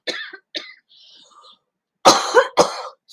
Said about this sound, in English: Sorry, just had a bit of a cough there.